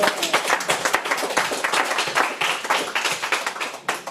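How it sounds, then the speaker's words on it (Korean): A church congregation at a Sunday service claps together in quick, fairly regular bursts, close and lively, with the rhythm holding for several seconds before a brief dip. "우리 하나님께 영광의 박수 한번 올립시다."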